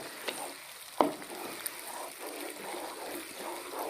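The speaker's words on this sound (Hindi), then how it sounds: "और अब मैं इसके अंदर ये प्याज डाल दूंगा और अब मैं इस प्याज को भी थोड़ा ब्राउन कर लूँगा इसके साथ।" Onions frying with chicken in oil for a chicken white pulao, a steady close sizzle with faint stirring and a sharp utensil clink near the start, no talk.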